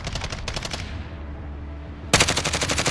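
Automatic weapon fire in a multiplayer shooter video game: rapid, evenly spaced bursts, loud and close, with a pause before a heavier burst resumes near the end.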